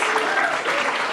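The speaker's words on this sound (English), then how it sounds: "So should we just give them a little clap" An audience at a London event applauds in a dense, steady clatter of many hands clapping that lasts the whole moment.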